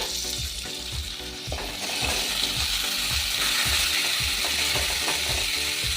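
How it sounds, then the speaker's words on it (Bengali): Onions, beans and potatoes fry in a pan with a loud, continuous sizzle, and a spatula scrapes the pan at a steady, repeated rhythm. Nobody speaks. "সবজিগুলো আরও হালকা ভাজবো"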